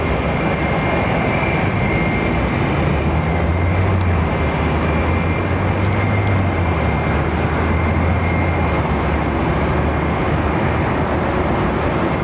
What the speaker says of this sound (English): Malaysian jet go.